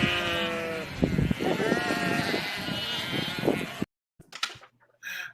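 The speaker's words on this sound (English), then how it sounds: "I love the new sheep." Sheep bleat repeatedly in a dense, continuous chorus close by, followed by a short pause and a few scattered bleats and bumps.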